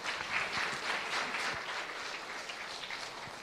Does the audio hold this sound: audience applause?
yes